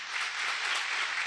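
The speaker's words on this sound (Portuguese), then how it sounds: "Aplauda bem forte ao Senhor." Brief burst of steady clapping from a congregation at a church service, dense and uniform, with no voices over it.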